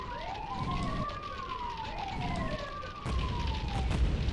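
Police car sirens in Grand Theft Auto 2 on PC wail in overlapping rising and falling sweeps, steady and fairly loud over a rumbling traffic and engine bed, with a sharp thump near the end and no talk.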